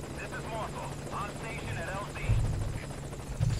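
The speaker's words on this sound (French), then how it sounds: "J'entends l'hélico, les amis." Helicopter in the video game Metal Gear Solid V Ground Zeroes, a steady low rotor drone that swells louder toward the end, heard beneath people talking over it.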